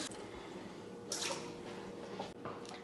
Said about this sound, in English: I'm also going to be adding 3/4 cup of water.